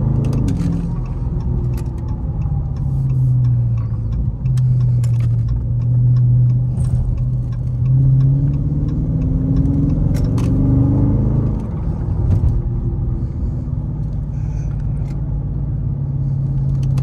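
A deep, throaty 6.4-liter V8 in a 2019 Dodge Charger Scat Pack in sport mode rumbles continuously while driving, swelling and easing as it revs through gears, close and loud.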